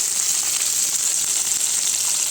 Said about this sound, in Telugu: ఇంకా క్యారెట్ వేసుకొని వీటిని ఫ్రై అవ్వనిస్తానండి